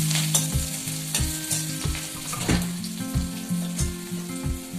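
Chopped garlic, onion and green chili frying in hot oil, a steady close sizzle broken by repeated scraping stir strokes of a spatula in the pan, with no voices.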